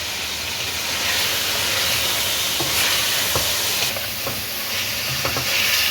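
Meat fries with a tablespoon of garlic ginger paste in a pot, a steady loud sizzle and hiss with occasional scrapes of stirring, no voices.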